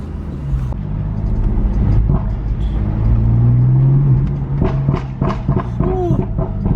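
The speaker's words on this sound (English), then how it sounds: "my intake sounds so much louder" A BMW F80 M3 with a louder intake and a new charge pipe, steady engine drone from inside the car rising into a brief rev, with some rumbling road noise.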